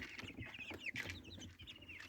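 Free-range country chickens cluck softly nearby outdoors, with several overlapping short clucks and chirpy calls in a quiet, faint scene.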